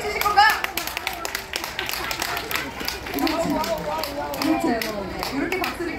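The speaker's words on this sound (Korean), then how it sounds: "여러분 박수 한번 쳐보실 수 있나요?" Festival crowd at an outdoor spring-night stage clapping along, rhythmic hand claps spread through a lively murmur of voices, steady and moderately loud throughout.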